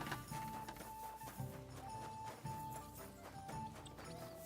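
Horse hooves clip-clopping at a steady walking rhythm in the medieval game Kingdom Come Deliverance, fairly quiet under a layer of background game music.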